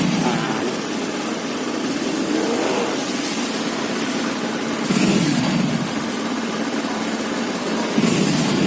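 A Honda Beat PGM-FI scooter engine with a faulty regulator runs steadily and close by, with mild surges of throttle rather than sharp revving, and no one speaks over it.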